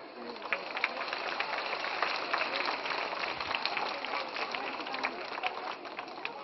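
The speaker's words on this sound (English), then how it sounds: "I thank all of you sitting here and applauding whatever small things I have been saying" An audience in a hall applauds a speaker at the end of a talk, a dense, steady wash of many hands clapping with no letup, moderately loud and fairly close.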